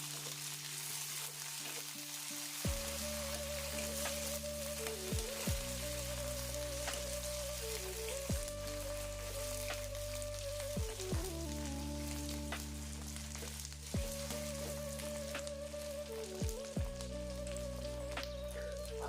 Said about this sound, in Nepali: साथमै हरियो खोर्सानी पनि हालेर अब एकछिन चलाऊँ है त।